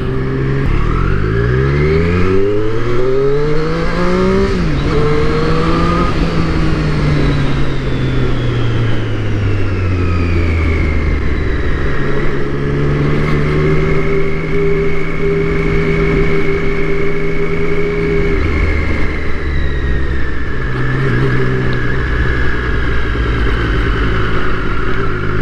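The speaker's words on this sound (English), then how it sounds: "That's the scream of inline three." A Triumph Street Triple S 2021 inline-three motorcycle engine screams loud and close, with repeated rising and falling revs sweeping up and down through the gears for the whole stretch.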